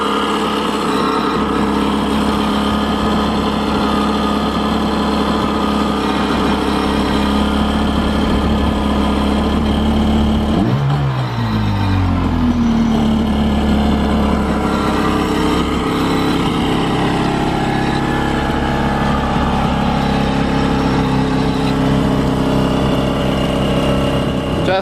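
The engine of a homemade jetski built from a dumpster runs steadily at a low idle, then swells into a revving surge midway before settling back into a steady drone, with no talk over it.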